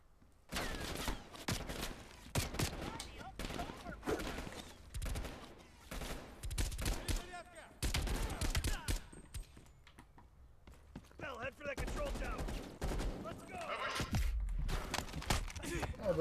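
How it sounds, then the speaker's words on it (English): Rapid bursts of gunfire in the Call of Duty: Cold War Red Light, Green Light map, with repeated sharp volleys and crackling shots, some near and some farther off, under intermittent voices. "Who's shooting at me?"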